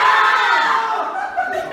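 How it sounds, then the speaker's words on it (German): Theatre workshop group shouting together as loud as they can, a dense, loud unison roar of many voices held for nearly two seconds before trailing off. "Sollen wir so laut schreien, wie wir können?"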